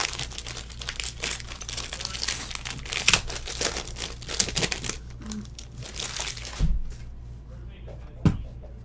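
Football trading card packs from a Supreme inner case are torn open and the wrappers crinkled, with continuous close crackling, a few sharper rips near the end, and talk running over it.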